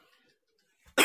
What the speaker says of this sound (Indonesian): Lagi batuk nih gas lur.